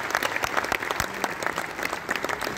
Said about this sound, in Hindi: एक बार मेरे कहने से भी तालियां बजा दीजिए